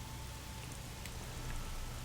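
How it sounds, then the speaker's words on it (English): Steady rain falls as ambience in the video game Xenoblade Chronicles 3. It makes a faint, even hiss with no break and no talk over it. "It's raining too."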